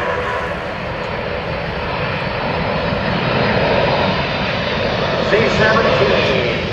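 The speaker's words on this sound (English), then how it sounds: "Now, the aircraft is going to maneuver to demonstrate a full flap" A C-17 Globemaster III military jet roars with a loud, continuous engine rumble during an airshow demonstration at Dover Air Force Base, steady and swelling slightly, with an announcer talking over it.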